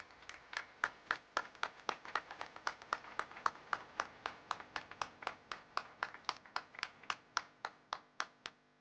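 Applause at a national broadcast event with El Salvador's president in Costa Rica, here a single pair of hands clapping in a steady rhythm, about thirty sharp claps close by with no talking.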